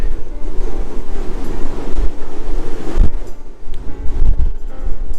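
Steady, blustery wind roars across the open deck of the Diamond Princess cruise ship, with low rumbling gusts buffeting the microphone throughout and no voices.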